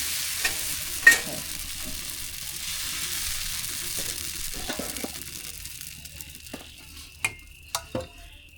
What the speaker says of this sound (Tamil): எண்ணெய் சட்டி தான் இருக்குதுங்கள்ல அதில் தாளிச்சுக்குவோம்